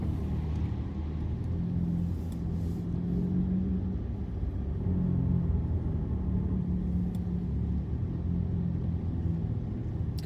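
An Acura TLX A-Spec idles and revs inside a parking garage, a steady low engine rumble with mild swells that echo off concrete walls, close by and alone with no talk.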